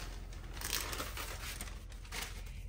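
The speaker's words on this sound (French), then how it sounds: "Ensuite, on va enlever donc le papier." Baking paper peeled away from rolled-out shortbread dough for Eid sablés, a steady close crinkling and tearing rustle that continues throughout with no voices.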